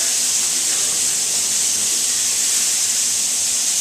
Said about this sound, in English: Oil on oil sear, to me, always gets a good Maillard reaction.